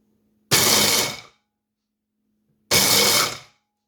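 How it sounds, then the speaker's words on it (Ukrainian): A blender whirs loudly in two short bursts of under a second each, separated by a brief quiet pause, chopping nuts. "І я подрібнюю в блендері."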